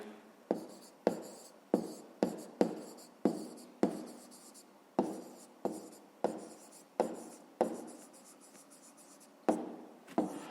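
A pen writes on paper while working a math exercise, a series of short close scratchy strokes in irregular bursts, quiet and alone.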